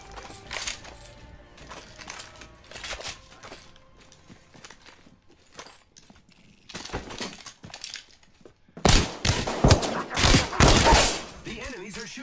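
Bursts of enemy gunfire in a shooter video game, scattered shots early on and a louder dense volley near the end, with voices talking over parts of it.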